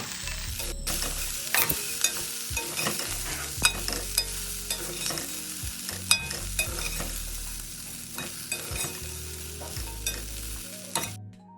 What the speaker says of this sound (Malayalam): ഇനി ഫ്ലെയിം ഓഫ് ചെയ്തിട്ട് കുറച്ച് സമയം കൂടി ഇളക്കി കൊടുക്കാം.